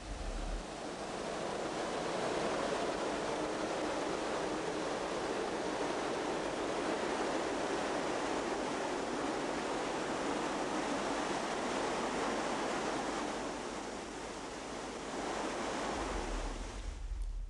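The famous Jajce waterfall roars as a continuous, dense rush of falling water, loud and steady throughout, with a faint wind-like hiss and no voices.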